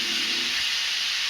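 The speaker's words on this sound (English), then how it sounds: "we do want to get a little bit of a sear on the outside" Tri-tip meat searing in a hot pan for big game chili, a steady, even sizzling hiss with no talk.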